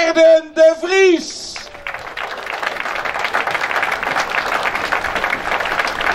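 Spectators applauding the overall race leader at a stage of a cycling tour in Hoorn, starting with a loud announcer's voice and then a steady, sustained wash of crowd clapping.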